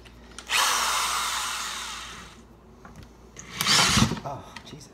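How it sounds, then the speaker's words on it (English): An electric drill bores into PVC during a DC-15A blaster prop build, two whirring bursts of close power-tool noise separated by a short pause, the second ending in a sharp knock. "Let's just drill into the PVC right now."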